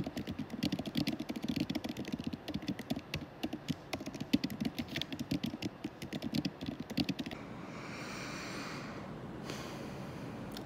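Rapid, steady typing on a computer keyboard clatters close by for about seven seconds, then stops, leaving faint room noise.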